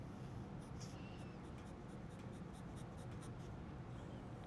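Fountain pen nib scratching across paper while writing, a soft continuous scritch with faint stroke ticks, close and quiet over a steady low background hum.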